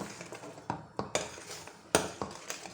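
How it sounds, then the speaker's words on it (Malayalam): A spoon stirs ground mustard paste into Mulaga Pachadi, giving a handful of sharp, irregular clinks and scrapes against the vessel, close and fairly quiet, with no one talking. "ഇളക്കി കൊടുക്കും."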